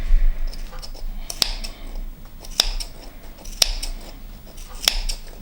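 Scissors snipping small notches in a fabric seam allowance of a sewn pouch, four sharp separate snips about a second apart, close and crisp over quiet handling of fabric.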